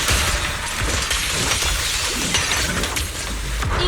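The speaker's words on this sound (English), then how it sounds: "A little smashing could do the trick." Smashing objects and shattering glass in the Zenless Zone Zero video game: a dense, loud crash and clatter of breaking debris lasting the full stretch, with no talking.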